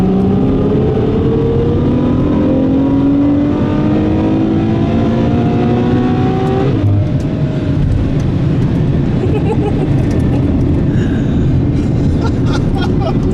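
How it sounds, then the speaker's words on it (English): A 2017 Ferrari F12 Berlinetta exhaust at high RPM, a loud, close engine roar with rising rev sweeps that peak and drop away, then continuous rumbling drive noise. "don't know if you could hear that exhaust"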